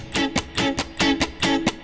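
Reggae electric guitar strumming with heavy muting, scratchy percussive strokes that rasp like a washboard, a quick repeating pattern of longer and shorter chops, close and without speech.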